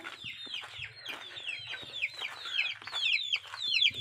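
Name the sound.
chickens clucking in a coop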